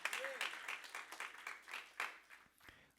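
Church congregation clapping in quick, uneven bursts for about three seconds, fairly faint and roomy, with a voice briefly heard near the start.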